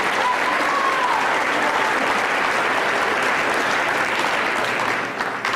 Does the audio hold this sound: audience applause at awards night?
yes